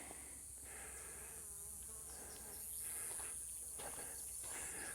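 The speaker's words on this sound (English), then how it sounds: "If you keep hearing a fly, I think it's followed me this whole way." A fly buzzes around near a riverside picnic spot in the Fairbank ghost town area of Arizona, its whine rising and fading in uneven bursts as it circles close over quiet outdoor ambience.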